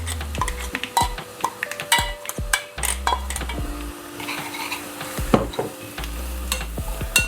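Garlic, curry leaves, asafoetida and ground spice powder roasting in a pan for pepper rasam, with irregular clinks and scrapes of a spoon stirring against metal over a soft sizzle.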